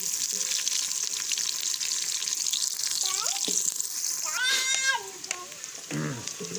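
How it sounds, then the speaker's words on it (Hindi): Chopped onions sizzle steadily in hot oil in a pan while cooking a Pakistani-style chicken rice dish. A few light clinks and squeaks of utensils break through the loud, constant frying. "इसमें डालेंगे प्याज और ब्राउन होने तक इसको पकाएंगे।"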